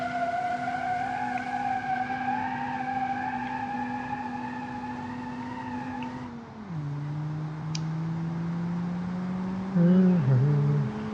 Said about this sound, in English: This thing, yes, wants to drift, but it's not gentle drifts.